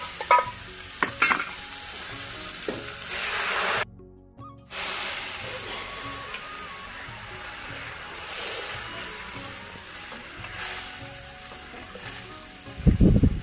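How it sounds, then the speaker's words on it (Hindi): Loud, continuous sizzling and spattering as a tempering of fried chillies and tomatoes in hot oil hits urad-spinach dal, with a brief drop in the middle and a clatter near the end. "और फिर हम लगाएंगे दाल का तड़का।"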